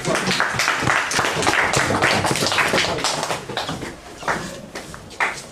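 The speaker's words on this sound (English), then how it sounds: "a round of applause" Classroom applause after a drug legalization debate, a dense patter of hand claps from a group that holds steady, then thins and fades toward the end.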